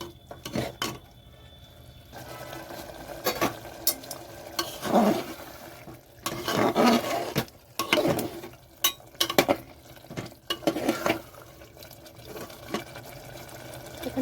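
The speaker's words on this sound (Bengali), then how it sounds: "এটা কিন্তু কষাতে হবে, কষাতে কষাতে তেল ছেড়ে যাবে।" Mutton liver stir-fried in oil, with irregular scraping and stirring strokes of a utensil in a pan over a soft sizzle, close and moderately loud.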